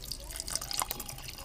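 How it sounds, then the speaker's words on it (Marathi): Water poured into raw mango pulp in a home kitchen, heard as soft, close drips and trickles spread through a brief moment, fairly quiet and with no talking. "आता त्यामध्ये मी थोडंसं पाणी ॲड करणार आहे."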